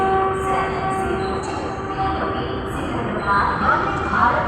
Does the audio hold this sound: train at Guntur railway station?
yes